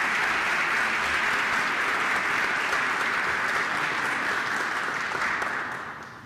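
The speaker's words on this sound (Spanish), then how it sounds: "Para él solicito un fuerte aplauso." An audience at a conference at the OAS breaks into loud, dense, sustained applause that holds evenly, then tapers off at the end.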